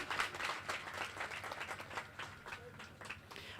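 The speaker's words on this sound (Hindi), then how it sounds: "महाराज स्वागत में ताली।" Audience at a Shrimad Bhagavat Katha gathering clapping in welcome for the speaker, a lively patter of many hands in uneven bursts that swells and fades, fairly soft and somewhat distant, with some voices underneath.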